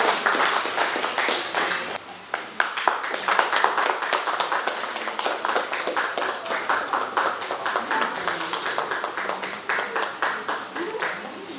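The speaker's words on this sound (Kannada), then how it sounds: "ಅವರಿಗೆ ಜೋರಾದ ಚಪ್ಪಾಳೆ ಬರಲಿ ನಮ್ಮ ಗುರುಗಳಿಗೆ" Audience applause at an award ceremony, dense, continuous clapping from many hands lasting about eleven seconds at an even level.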